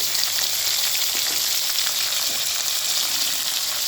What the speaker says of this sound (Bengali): একটি কোটা টমেটো কেটে রেখেছিলাম টমেটোটা দিয়ে দিচ্ছি